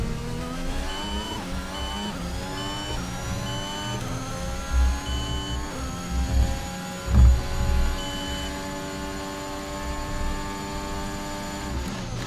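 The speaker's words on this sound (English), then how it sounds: "Had to rev out the car just a little bit there because we had a little bit of a mess up" A Formula 1 car engine revs in a racing video game at Silverstone during the British Grand Prix, a loud, continuous whine with rising and falling pitch sweeps and a few low thumps near the middle, with no voices.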